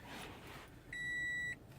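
A single electronic chime of about half a second sounds inside a Scion FR-S as the ignition key is turned forward, a clean steady tone over quiet cabin hum.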